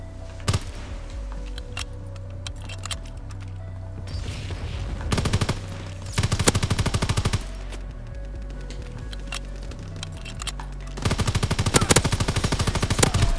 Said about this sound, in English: Trust me, with a light machine gun, it's legit ridiculous.